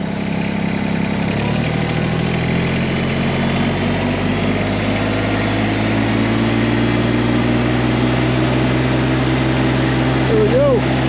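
An LS MT122 compact tractor's diesel engine runs loud and close, idling at first and then rising to a higher, steadier drone as the revs come up, with a faint squeak near the end.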